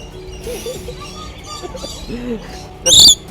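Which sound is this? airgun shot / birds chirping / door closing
birds chirping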